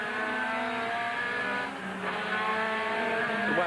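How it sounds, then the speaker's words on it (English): Touring cars racing at Amaroo in 1989, with a loud, continuous engine drone and rising and falling revs, as if heard through the exhaust, plus a brief tyre squeal. "A lot of noise coming back through the exhaust"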